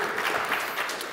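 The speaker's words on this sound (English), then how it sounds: "I hear some claps, that's totally appropriate." An audience at an ng-conf conference talk claps in a brief scattered patter that holds steady for about a second, with no one speaking.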